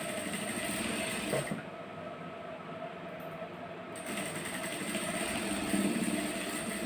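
A sewing machine runs a seam along a tight blouse being let out and refitted, giving a steady close mechanical whir that continues with a brief dip partway through.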